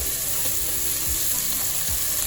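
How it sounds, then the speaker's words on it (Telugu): Tomato, onion and green chilli fry together in a pan for chicken pulao, producing a loud, dense, continuous sizzle with a few soft low knocks from stirring, and no talking. "మనకైతే ఫ్రై అయిపోయినాయి టమాటా ఆనియన్ పచ్చిమిర్చి"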